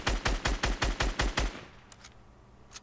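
Automatic weapon fire in Fortnite Battle Royale rattles out as about seven rapid, evenly spaced loud shots over a second and a half, followed by a few faint distant pops.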